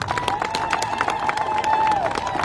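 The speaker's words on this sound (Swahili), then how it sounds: "Pia makofi mengi kwa Dr." Crowd clapping at an outdoor Tanzanian development rally, scattered sharp claps over a murmur of voices and a steady tone beneath.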